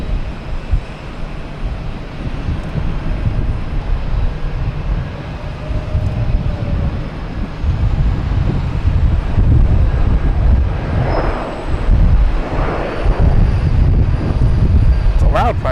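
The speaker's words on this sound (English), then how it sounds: "It's a loud private jet." Loud private jet landing at Boston Logan Airport, a sustained roaring engine rumble that swells and builds over about fifteen seconds, heard at a distance outdoors with brief talk over it.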